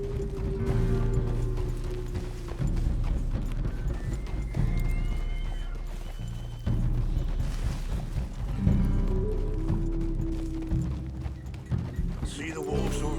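Horse hooves clip-clop in a steady rhythm while riding in Red Dead Redemption 2, with an occasional whinny, under a man's speech and ambient game sound.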